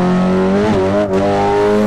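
Hyundai i20N engine in an Assetto Corsa mod, revving steadily with a strong harmonic drone that dips briefly near the middle then holds, loud and close with no talk.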